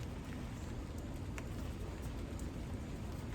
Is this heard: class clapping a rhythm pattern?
no